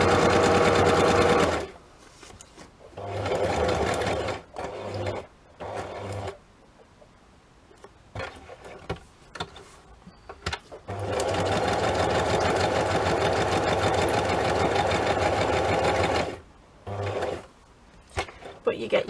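A sewing machine stitches a pocket onto a book page in several loud, close bursts of rapid mechanical whirring, separated by pauses with faint handling noises and the occasional word spoken.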